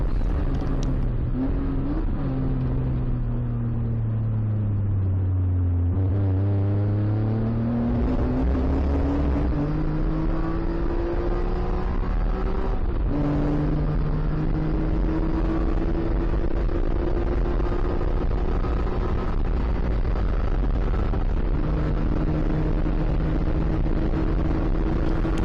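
Onboard a BMW race car lapping VIR in an endurance race, the engine drones loud and constant, pitch climbing through the gears and dropping on shifts, with steady road and wind roar throughout.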